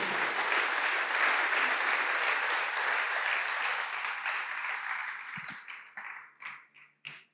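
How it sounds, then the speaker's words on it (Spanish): A church congregation breaks into sustained, full applause, loud and even for several seconds, then tapering off to a few isolated claps. "Dele un aplauso al Señor si usted lo cree."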